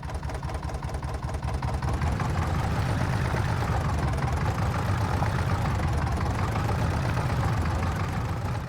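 Tractor engine labouring under a heavy pull in the video game Farming Simulator 25, a steady, loud diesel drone with rapid knocking pulses that holds constant and close throughout.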